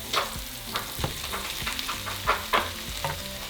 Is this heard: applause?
no